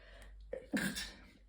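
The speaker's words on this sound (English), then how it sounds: "pardon my sneeze" A single close sneeze, a quick breathy burst after a short inhale, followed by quiet.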